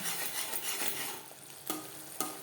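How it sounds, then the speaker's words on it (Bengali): Spice masala for an okra curry sautéed over a low-medium flame, heard as soft stirring and scraping with a faint sizzle and a couple of sharper utensil scrapes near the end, close and quiet, no voices. "তিন চার মিনিট লো টু মিডিয়াম ফ্লেমে মশলা ভালো করে কষিয়ে দেবো"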